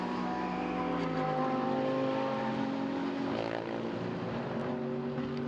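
Engines of GT race cars in qualifying at the Sepang circuit, including the number 11 car, drone loudly and continuously, several overlapping engine tones sliding in pitch throughout.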